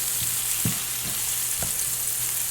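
Cubed leftover pork loin fries in a pan as it starts to caramelize, a loud continuous sizzle with a few soft stirring knocks, no voices.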